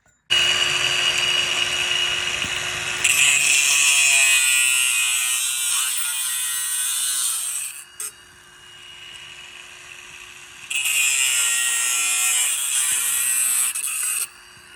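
An angle grinder cuts Vance & Hines Big Radius exhaust baffles in two loud, high-pitched whining bursts separated by a quieter stretch of lower running hum.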